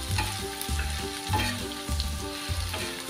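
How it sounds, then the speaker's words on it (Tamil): Onions sauté in oil in a pan for wheat adai, a steady frying sizzle under a repeating tonal pattern that sounds like background music, with no talk. "நல்லா வெங்காயம் வதங்கணும்."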